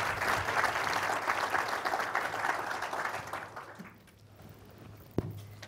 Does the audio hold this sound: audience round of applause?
yes